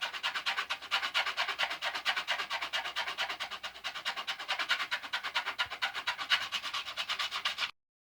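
A sharpened knife spine scrapes rawhide in a steady, rapid back-and-forth rasp, loud and close, continuing for several seconds without speech before stopping abruptly.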